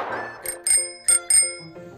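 A bicycle bell rings sharply and close, with four bright metallic dings in quick uneven succession over a couple of seconds, alone and loud.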